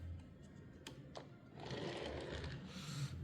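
A 34-gram Hot Wheels die-cast 1978 Dodge Li'l Red Express toy pickup truck, its rear wheel wobbling, rolls across a surface. After a few light clicks it makes a steady, close whirring rattle for the last half of the clip.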